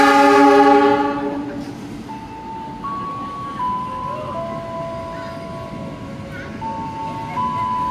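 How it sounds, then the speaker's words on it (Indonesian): A train passes straight through a busy Jakarta station on track 2, with a loud horn blast at the start, then steady rolling noise and a faint electronic chime melody overhead, with no talking. "jalur 2 dari arah barat kereta api melintas langsung."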